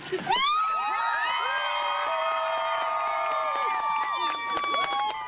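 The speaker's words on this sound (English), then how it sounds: "The bus driver with his own team cheering him on." A team erupts in loud cheering, shouts and whoops for a surprised bus driver, a dense crowd roar of many overlapping voices sustained for several seconds, with a few claps near the end.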